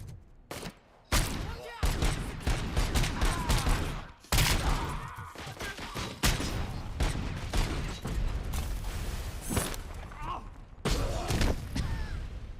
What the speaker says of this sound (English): Oh, they're throwing grenades at me.